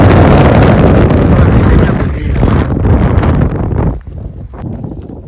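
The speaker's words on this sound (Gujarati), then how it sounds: "બહુ પવન" Strong, steady wind roaring and buffeting the microphone on a hilltop about 1500 feet high, dropping off near the end, with a voice faintly present underneath.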